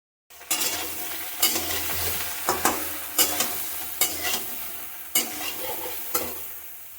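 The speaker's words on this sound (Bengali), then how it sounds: "এবার আমি ওই তেলে সয়াবিনগুলো ভেজে নিব ভালো করে।" Soybean chunks fry in hot oil with salt and turmeric in a pan, a continuous close sizzle broken by regular sharp scrapes and clanks of a spatula stirring roughly once per second.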